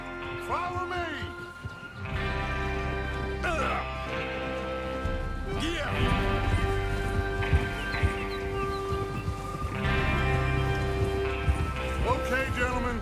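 Horses' hooves clip-clopping on the move in the video game Red Dead Redemption 2, a steady patter of hoofbeats under music and someone talking.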